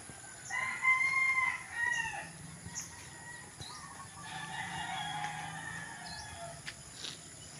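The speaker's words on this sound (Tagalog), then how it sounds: "Yung aking mga sisiyo, nandito na sila" Farmyard chickens in a rural province on an overcast morning: a rooster's crow rings out, followed by clucking and scattered calls from the flock at moderate distance against faint insect hum.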